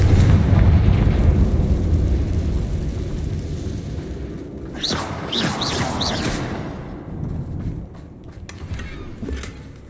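A blasting spell erupts in Hogwarts Legacy with a heavy rumbling boom that slowly decays over several seconds, followed by a few sharp crackling bursts and scattered debris sounds.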